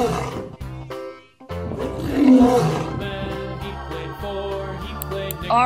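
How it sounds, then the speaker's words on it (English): A lion lets out a deep roar that swells to a peak and fades, heard against a bed of steady music. "Lion."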